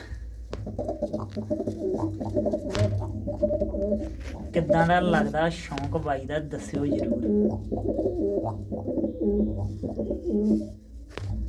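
Several pigeons in a loft coo in low rolling murmurs, close and continuous, while someone talks over them throughout.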